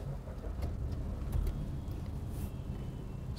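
A Maruti Ciaz sedan's engine idles steadily after starting, a close, even mid-pitched hum with light mechanical texture and no voices.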